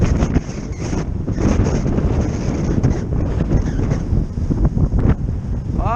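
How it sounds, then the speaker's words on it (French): Steady crosswind buffeting the microphone during a road bike ride, a loud rough rumble that continues throughout with no speech. "Un petit vent de travers là."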